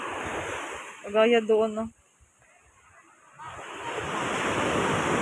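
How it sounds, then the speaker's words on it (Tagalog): Strong waves crash on an island beach resort in a loud, broad roar at the start and again at the end, broken by a pause in the middle while a person talks briefly over the surf. "ang lakas ng hampas ng alon"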